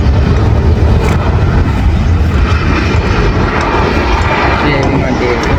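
An airplane flying overhead makes a loud, continuous engine roar that fills the whole stretch, and voices may be faintly present beneath it.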